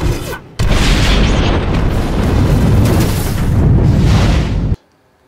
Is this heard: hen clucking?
no